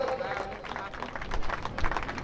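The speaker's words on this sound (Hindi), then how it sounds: "और आप एक बार जोरदार तालियों के साथ इनका स्वागत कर दीजिए" A gathering in rural Haryana welcomes guests with steady applause, dense clapping from a crowd mixed with voices.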